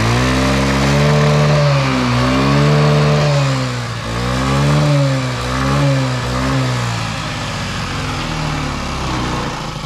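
A Honda Ruckus scooter engine runs close and loud with a freshly replaced throttle cable, its pitch rising and falling in a few gentle revs before settling into a steady idle.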